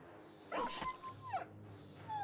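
A dog in the Battle Brothers video game yelps and whimpers as it is killed, a few sharp high cries with a whining pitch fall, near and clear over quiet game ambience.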